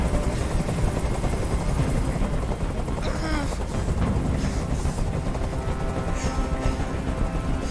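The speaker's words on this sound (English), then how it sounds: "Tell that helicopter to get out of here!" A helicopter hovers in the video game Detroit: Become Human, a steady loud rotor drone running throughout, with brief sharp sounds and a sliding tone in the middle layered over it.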